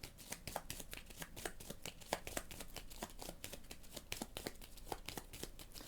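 Cards for the Leviathan Wilds board game being shuffled in a quick, steady run of crisp riffling snaps, close and fairly loud, with no talking over them.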